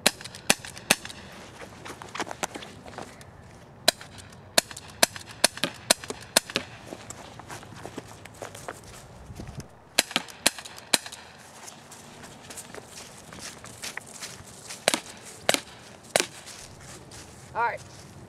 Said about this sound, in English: now we shot it at a pretty small box